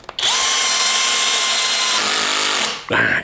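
A TEH 120 Nm cordless impact drill running on a Makita battery drives into tightly clamped wood at its highest setting: one loud, sustained whirring burst of almost three seconds, close up, ending abruptly, followed by a short thud.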